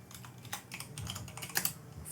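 Typing on a computer keyboard, a steady run of quick light key clicks up close with a couple of sharper louder taps near the middle.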